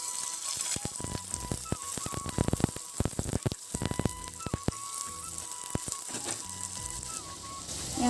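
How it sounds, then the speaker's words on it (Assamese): Onions frying in a hot kadai keep up a steady sizzle with constant crackling and scattered sharp pops. A faint hum runs underneath, and nobody speaks. "ইয়াৰ পৰা পিঁয়াজখিনি ৰঙচুৱা হৈছে। ৰঙচুৱা হোৱালৈ ভাজি ল'ব।"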